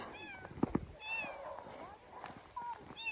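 A rescued cat meows several times in short, rising cries, close by, with people talking in Filipino around it and a couple of sharp bumps early on.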